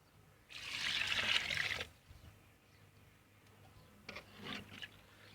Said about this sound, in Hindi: तो चावलों के लिए हम आप डाल देंगे इसमें पानी।